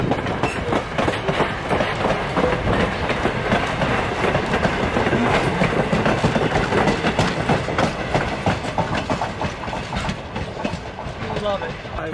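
A loud train rumbles steadily past close by, with a continuous rattling clatter of wheels that holds throughout and eases slightly near the end.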